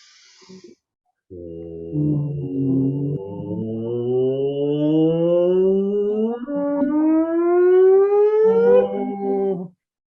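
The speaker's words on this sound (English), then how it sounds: "now we're going to go from a low note to a high note. The word is whoop." Several voices together sing a long sustained whoop that glides slowly upward from a low pitch to a high one, steady and fairly loud, then stops.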